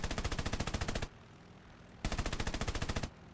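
Two long bursts of rapid .50 cal machine gun fire from an F4F-3 Wildcat in War Thunder, each about a second of steady close rattling separated by a short gap of engine drone.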